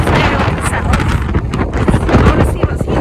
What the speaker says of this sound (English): this is extremely windy